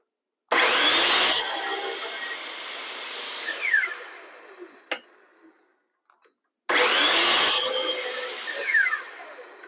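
A power saw whines loudly through wood in two long 45-degree bevel cuts, separated by a quiet pause with a few small knocks.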